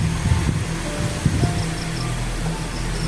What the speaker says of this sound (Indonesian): Mas Abi, ini angin kencang kali loh.